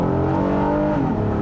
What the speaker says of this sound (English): Listen to that screaming engine, though.